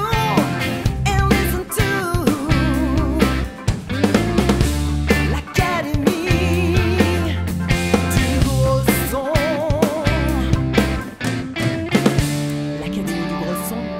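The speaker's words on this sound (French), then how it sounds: "Donc ici, on a notre petit morceau AGS mixé." Mixed but not yet mastered song played back, a full, dense band arrangement with steady beat, bass and melodic parts running continuously at a loud, even level without talk.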